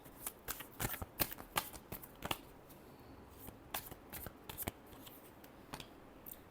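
A deck of tarot cards is shuffled by hand, with crisp, rapid riffles and flicks in quick irregular bursts, close and clear.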